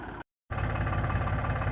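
A tractor engine runs in a field during castor sowing, a close, steady low rumble with a fast regular throb, cut by a brief silent gap near the start.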